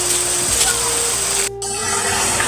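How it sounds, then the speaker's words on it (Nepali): A small village stream flows in a continuous close rush of water, with a brief break in the sound near the end. "सानोतिनो खोल्सा हो क्या खोल्सा भनौँ न"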